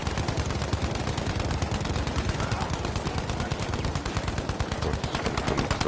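Rapid, unbroken automatic gunfire in a competitive team shooter video game, a loud, dense stream of shots at a constant level throughout, with no pauses.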